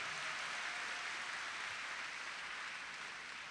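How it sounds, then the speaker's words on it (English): Steady audience applause at an inaugural presidential lecture, a dense wash of clapping that holds evenly for a few seconds and fades slightly at the end, with no voices over it. "give a round of applause to Prof. Nur Farida."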